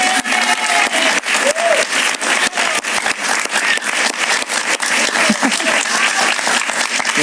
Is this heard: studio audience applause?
yes